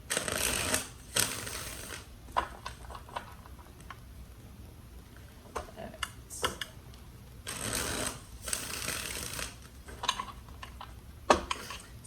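Tarot cards are shuffled in several quick, papery bursts separated by quieter pauses and small clicks, close and alone with no voices.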